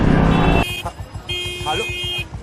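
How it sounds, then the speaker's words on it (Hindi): Vehicle horn sounding in traffic during a monsoon motorcycle ride in Maharashtra, with two sustained honks, one long and one shorter, breaking through road noise while someone talks over them. "अबे कौन हॉर्न मार रहा है बे बार-बार?"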